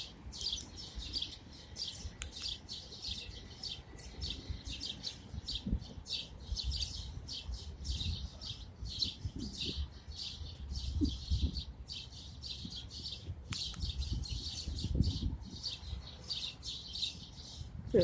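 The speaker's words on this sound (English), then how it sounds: "because there's a lot of birds here" Many birds chirp and tweet continuously in an urban city setting, a dense chorus of rapid high calls layered over low traffic-like rumble throughout.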